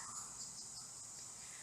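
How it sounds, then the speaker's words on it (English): Cicadas droning outdoors in Australia with wind blowing, a faint, steady high-pitched insect buzz holding throughout with soft airy rustle beneath. "At the moment, I'm hearing the cicadas"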